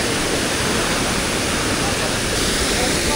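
Strong rushing water at Cambugahay Falls on Siquijor island, a dense, steady roar of falling water filling the whole stretch, loud and close with no pauses.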